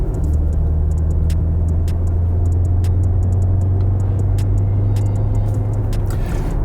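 A 2021 Jaguar E-Pace SUV driving onto a freeway, heard from inside the cabin as a loud, steady engine drone with a low sustained tone and road rumble, plus faint ticking, with no talk.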